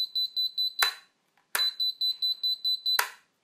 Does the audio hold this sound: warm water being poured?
no